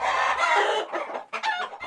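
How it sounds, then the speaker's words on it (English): Chickens cluck steadily at close range, several birds overlapping in a busy, continuous chatter with short gaps. "dozens and dozens of chickens just clucking and scratching and pecking away at the ground"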